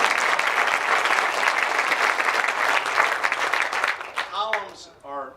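An audience bursts into sustained applause at a stadium progress update, dense and loud at first, then thinning out as a voice starts speaking near the end.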